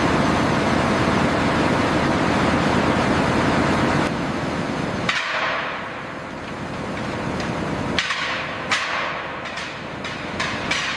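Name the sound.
gold ore dropping into rotating grinding mill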